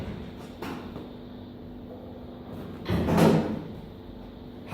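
An Austin Healey car door opens with a faint click, then swings shut with a louder muffled thump, two separate sounds close by in a quiet workshop.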